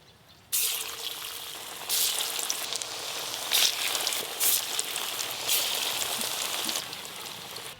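Chicken pakoras are dropped into hot oil, and a sudden loud sizzle bursts up. It keeps crackling and surging as more pieces go in, close by and with no talking.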